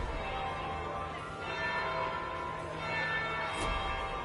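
A bell tolls in a church-bell style, the third in a series, its long ringing tone sustained and resonant over a steady background wash, with no voices.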